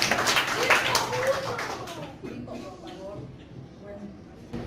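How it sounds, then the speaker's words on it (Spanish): Classroom listeners at a horror-story sharing session give a brief round of clapping to welcome a storyteller; the clapping fades quickly as a voice starts talking over it. "María del Rosario también la recibimos también con un aplauso"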